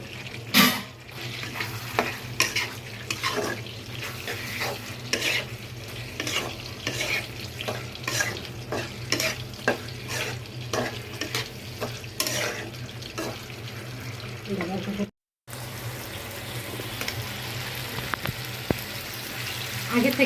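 Red and green capsicum with medium-cut onion being stir-fried for Chinese vegetables, steady sizzle under repeated scraping strokes of a spatula, with a low steady hum and a brief silent gap near the end.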